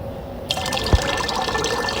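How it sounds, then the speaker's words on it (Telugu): Water poured from a bucket into a container in a survival crafting video game, a short liquid splash and fill beginning partway through, close and fairly loud over a steady background. "వాటర్ తీసుకున్నామా, ఇందులో పోసామా"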